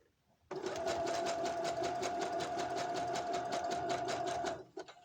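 A domestic sewing machine stitches fabric while altering oversized panties, running in one steady, loud, rapid burst for about four seconds before stopping, with no talking.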